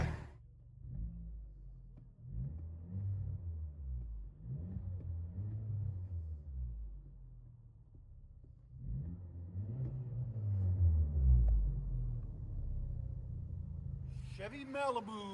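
Inside the cabin of a 2019 Chevy Malibu turbo four-cylinder with straight-pipe exhaust, the engine is muffled and fairly faint as it revs several times, ending in one longer, stronger rev.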